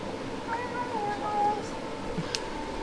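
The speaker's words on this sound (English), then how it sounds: "There's another cat." A cat meows in a narrow alley in Szentendre, Hungary, giving a drawn-out mid-pitched call over a steady outdoor background, with faint voices nearby.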